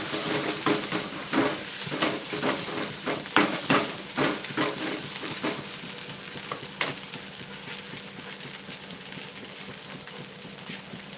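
Coriander powder is stirred into a frying pan, with brisk scraping and clinking strokes over a soft sizzle in the first half, then the pan settles into a quieter, steady hiss, no voices.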